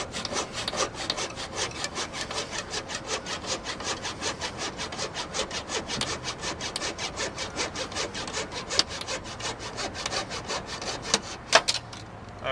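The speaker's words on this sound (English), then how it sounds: "So we're just going to keep sawing here." Rapid, regular back-and-forth strokes of a hand saw cutting through plastic window pins, close and steady, with a few sharper scrapes near the end.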